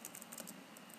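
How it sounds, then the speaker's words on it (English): Typing on a computer keyboard while entering text in Microsoft Word, a quiet, steady patter of light key clicks with no talking. "then I will start typing teaching"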